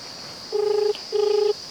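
Two telephone keypad tones sound as a number is dialed, clear, even beeps about half a second each, separated by a short pause, over a faint steady background hum.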